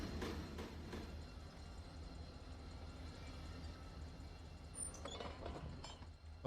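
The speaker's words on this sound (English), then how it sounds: "we are going to be going out this way to the signal after the train passes us" A train passes in the Run8 train simulator game, a steady low rumble of rolling wagons with light metallic clinks and rattles rising near the end, fairly faint throughout.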